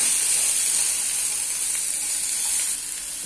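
Pumpkin sabji sizzles steadily in a pan while being stirred, a loud continuous frying hiss that eases slightly near the end.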